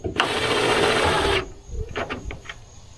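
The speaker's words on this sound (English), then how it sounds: "I'm running them down with the impact." A handheld impact wrench runs nuts down on a vehicle, a loud rapid buzzing rattle for about a second and a half, followed by softer clicks and handling noises.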